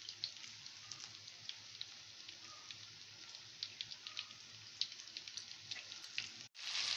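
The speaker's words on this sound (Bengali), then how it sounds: "এইভাবে গোল গোল চ্যাপ্টা চ্যাপ্টা করে তেলের মধ্যে দিয়ে ভাজতে হবে।" Drumstick flower fritters, shaped into flat rounds, fry in oil with a steady, dense crackling sizzle that runs throughout, dotted with small pops and a brief dip near the end.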